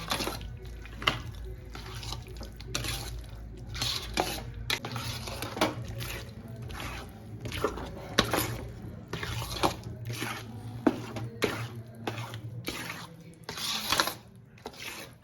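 A thick salampak mixture is stirred continuously in a pan, giving a steady run of scraping and clattering knocks against the metal at an uneven rhythm.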